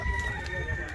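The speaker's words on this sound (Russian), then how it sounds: "Тут разные вон петушки, куры, цесарки." Roosters and chickens at a bird market in Pyatigorsk, a brief faint rooster crow and fowl sounds amid ambient market noise.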